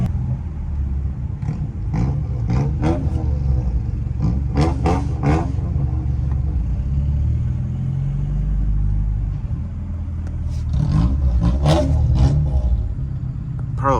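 Exhaust burbles and engine rumble from a tuned BMW F30 328i stage 2+ while driving, heard from inside the car as irregular crackling pops over a deep steady drone, with talk over parts of it.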